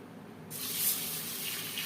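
Tap water gushing into a bowl of small-grain mung dal being washed, starting abruptly and running steadily, close and fairly soft.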